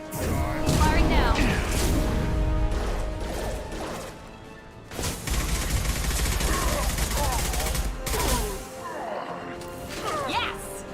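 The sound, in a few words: gunfire in Mass Effect 2 video game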